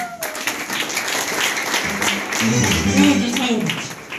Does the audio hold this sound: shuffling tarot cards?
no